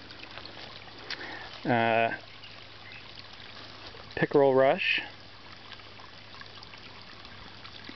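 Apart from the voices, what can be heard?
water flowing from solar pond pump outlet tube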